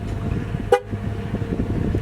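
A car horn gives a single short toot at a distance, standing out briefly over low traffic rumble and room noise.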